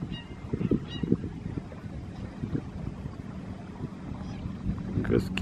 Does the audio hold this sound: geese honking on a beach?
yes